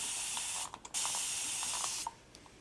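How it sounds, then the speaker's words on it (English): A spray bottle misting water directly into a watercolor palette pan, loud close hissing sprays in two long bursts separated by a brief pause with small clicks of the trigger, no talking. "if you just spray water directly into your pan"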